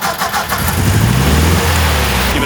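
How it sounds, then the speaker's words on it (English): Classic MGB sports car engine revving close by, a loud rising mid-range roar that climbs and holds steadily for a couple of seconds with no talk over it. "Give it a rev, shall we? Here we go."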